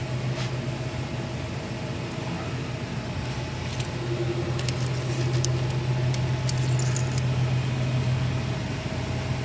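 Mechanical metal shear cutting a 12 by 12 inch sheet metal piece, heard as a steady loud machine hum with a low drone throughout and a few sharp clicks and snaps near the middle.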